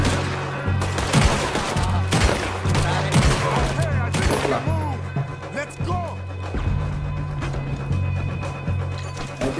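Gunfire from a fight against navy soldiers in Red Dead Redemption 2, with a steady fusillade of shots, crashes and horse hooves under a game music bed, while a player talks over the action.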